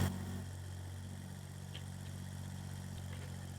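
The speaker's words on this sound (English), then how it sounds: "the sound of the tractor, it's really on point. It does sound like the original." Simulated tractor engine from a farming video game mod idles steadily, a low, continuous drone with a firm rumble that holds even throughout, heard alone with no talking.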